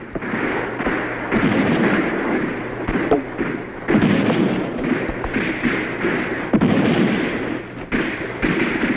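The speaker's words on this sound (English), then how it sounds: "We've got to silence that cannon on the hill." Radio-drama battle effects meant as a cannon firing on a hill: repeated heavy booms and rumbling blasts in irregular succession, loud and close, over a continuous noisy battlefield din.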